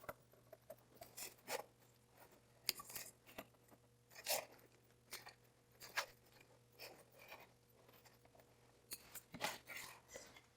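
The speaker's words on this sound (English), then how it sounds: "now we need to trim away the vinyl around here" Scissors snipping through vinyl around an in-the-hoop embroidery project, a string of close, crisp cuts and crunches spaced irregularly with short pauses, against a faint steady hum.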